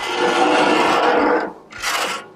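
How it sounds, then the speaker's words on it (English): A metal scraper drags across a flat top griddle in two loud, close rasping strokes: a long scrape, a short pause, then a shorter one. "Really nice scraper. You can also use it like this for scraping that direction."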